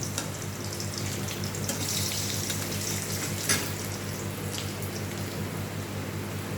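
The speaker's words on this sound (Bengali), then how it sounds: "এবার ডিমটাকেও ভেজে নেব" Eggs frying in a pan for an egg curry, giving a steady, dense sizzle with a wet, water-like hiss that holds evenly throughout, close by and with no talking.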